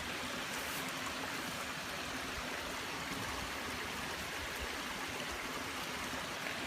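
A continuous rushing of water spilling over a small drop-off beneath a little wooden bridge, steady and broad like a brook, with no talking over it.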